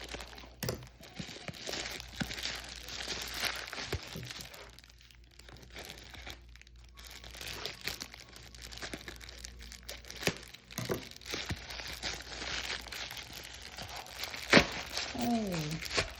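Plastic wrapping on an Amazon package crinkles and tears in irregular bursts as it is opened, close up, with a voice talking between the rustles and a sharp snip or crack near the end.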